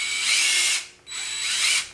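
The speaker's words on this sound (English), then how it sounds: "just open this up with the drill bit a little bit" A drill bit bores into a Tamiya Agrios part in two close, loud bursts of high whirring, separated by a brief pause, with no talking.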